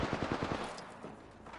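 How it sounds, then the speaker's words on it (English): Rapid automatic gunfire from a Devotion weapon in the Apex Legends video game, a fast burst of loud rhythmic shots in the first half second that then trails off into fading echoes and game noise. "I'm getting shot in the ass by Devotion."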